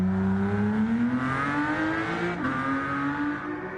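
A Porsche GT3 with a Mezger engine and PDK gearbox in Gran Turismo 7, its engine note climbing loud and close under acceleration, with rising tonal sweeps and a quick gear change partway through.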